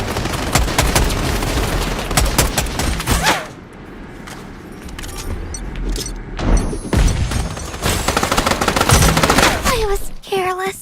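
Rapid machine-gun bursts and single gunshots from the video game Stirnova fire loudly in repeated volleys, broken by a short quieter lull with mechanical clicks, then resume with a sharp ringing tone near the end.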